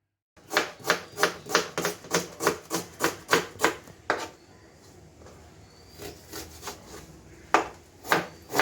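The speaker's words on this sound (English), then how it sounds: "Cut the onions nice and fine." Onions being chopped finely on a wooden board with a knife, a quick run of about a dozen crisp, regular chops, then a pause with faint rustling before a few more cuts near the end.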